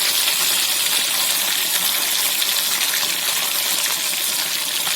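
Loud, steady sizzling and crackling of mushrooms frying in hot oil for mushroom 65 fills the whole stretch without a break.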